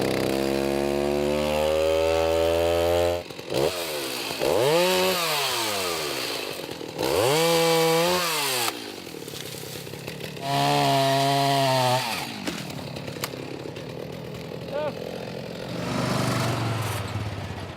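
A chainsaw revs loudly in repeated bursts, its pitch rising and falling as it bites into wood, with brief idle pauses between cuts.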